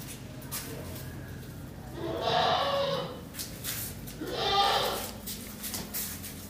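Young goats about three to four months old at a livestock market, giving two drawn-out bleats a couple of seconds apart over a steady background murmur.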